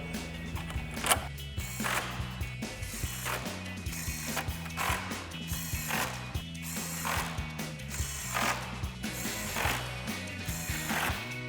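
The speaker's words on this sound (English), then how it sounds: "Now we'll get all 8 of our 10mm bolts back in the top of our grill." Rapid ratcheting clicks from a ratchet with a 10mm socket driving grille bolts on a 2017-2019 Ford F-250, in repeated quick bursts with brief pauses between bolts, close and fairly loud with no talk.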